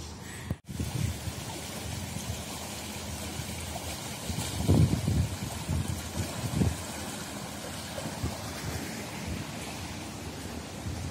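Floodwater of the Setun river rushing through normally dry ground after heavy rain in Moscow, a steady broadband roar of flowing water that continues throughout, with brief louder surges midway.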